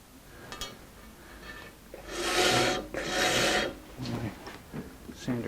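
Guitar wood is sanded by hand using a switched-off sander, giving a few loud, close rasping strokes, the two longest back to back, among softer rubbing and light knocks.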